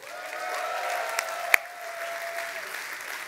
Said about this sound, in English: A warm round of applause for the folks who are making all this happen.